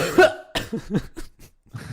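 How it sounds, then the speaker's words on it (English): One short cough up front, then a burst of breathy laughter-like sounds trailing off in a quiet room. "There's something that's funny to me about a single cough."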